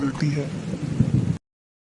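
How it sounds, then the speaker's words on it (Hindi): Rumbling thunder and a wash of rain fill an animated children's cartoon, loud and steady with a voice speaking over them, then cut off abruptly. "अरे लगता है बारिश होने वाली है।"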